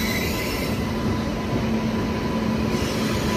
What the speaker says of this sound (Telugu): ఇంకో ట్రైన్, ఇటు పక్కేమో కాచిగూడ యశ్వంత్పూర్ వందే భారత్.